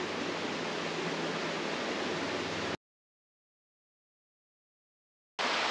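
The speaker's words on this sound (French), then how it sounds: "toujours au bord de notre petit ruisseau que tu entends." A small stream in the Ardèche rushes steadily nearby in a broad, even babble, then cuts to dead silence for a few seconds before the flowing water returns.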